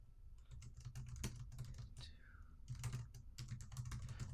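Quiet, close tapping on a computer keyboard in irregular bursts of keystrokes, faint and low in level, with a brief higher chirping sound partway through.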